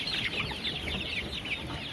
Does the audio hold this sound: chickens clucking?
yes